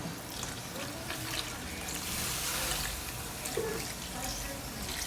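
Water pours and splashes continuously into a pot, a steady gurgling stream with faint background noise.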